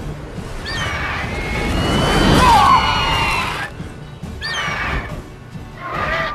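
A horse neighs and whinnies as a griffin seizes it in The Witcher 3: Wild Hunt, several loud shrill whinnies over a rushing, surf-like roar, with a brief crash in the middle.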